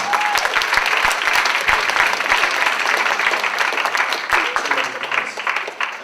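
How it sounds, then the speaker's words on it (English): Sustained audience applause at a music panel Q&A, a dense steady wash of many hands clapping that stays full for several seconds. "And institutional applause for this man here."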